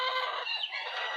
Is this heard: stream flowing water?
no